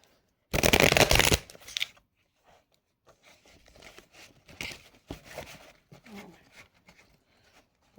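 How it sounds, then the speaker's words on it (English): A deck of oracle cards is riffled in one loud, close burst of rapid flapping, followed by softer sliding, tapping and handling sounds of the cards. "I'm gonna shuffle my cards and see what happens."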